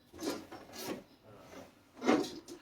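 Quiet rhythmic rasping strokes of a blade sawing partway through a fly rod blank, three or four separate back-and-forth scrapes, close and faint.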